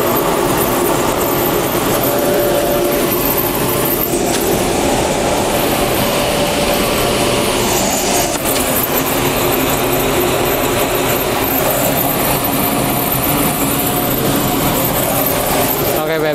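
A cremation furnace machine runs with a loud, constant roaring rush that stays steady and unbroken throughout, like heavy blower and burner noise filling the space.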